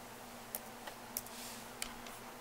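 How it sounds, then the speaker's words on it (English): A few sparse, faint clicks from a computer keyboard sound at irregular intervals over a quiet steady hum. The keys are close but soft, and no one speaks. "And right here you type K3B."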